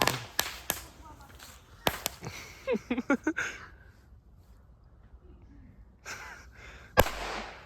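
A small firecracker pops in sharp, scattered cracks, followed by a louder closing bang, with people laughing and breathing close by between the blasts.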